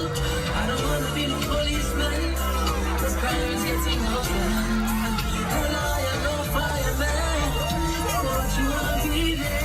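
A welcoming crowd cheers and chatters at a live Bahamian sound-system show, the hubbub sitting steadily beneath loud, bass-heavy music.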